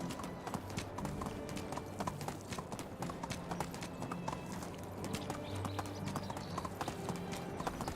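Horse hooves clip-clop at a steady trotting rhythm in the video game The Oxbow, moderately close over a low ambient backdrop.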